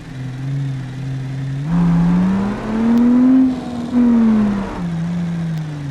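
Heavy duty truck engine idling roughly in the BeamNG driving game, a close, steady low drone that swells in pitch through several short revs and settles back.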